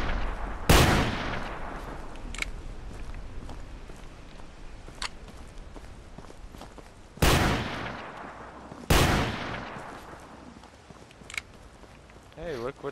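Shotgun blasts in the Hunting Simulator video game: three sharp, loud reports spaced several seconds apart, each with a short decaying tail, over quiet outdoor ambience with a few fainter clicks.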